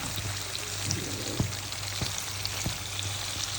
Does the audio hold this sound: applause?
no